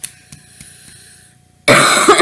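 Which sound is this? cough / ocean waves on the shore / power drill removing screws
cough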